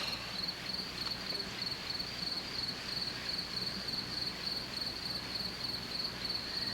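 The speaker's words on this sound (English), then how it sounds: "so you can record your crickets" Crickets chirping at night in a steady rapid pulsing trill, continuous and fairly faint, over a soft background hiss.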